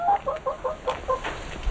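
Chickens in a countryside yard cluck in a short run of quick, clipped calls, close and moderately loud over a faint background hum.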